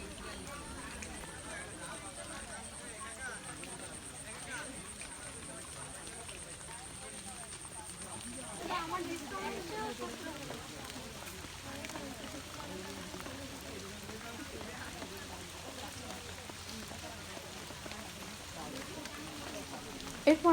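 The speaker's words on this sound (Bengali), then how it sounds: "বৃষ্টির ফোঁটা শব্দগুলো তো সেই রকম লাগছিল" Steady rain falls on a pond of water lilies, heard from a boat, a dense even patter that holds through the whole stretch and swells a little partway through.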